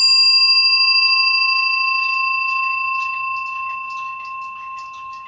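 French grandfather clock bell ringing on after a strike, a steady bright tone decaying gradually over about five seconds, close and alone with faint clicks in the background.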